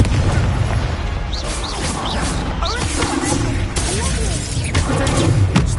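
Fire spell casts in Hogwarts Legacy, bursting with booming whooshes and crackling impacts amid a busy battle mix of magical hits, thuds and music, with a voice calling out spells.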